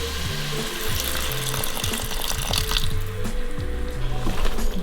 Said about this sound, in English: I'm just deglazing the bottom of the pot, which means to scrape off all the brown bits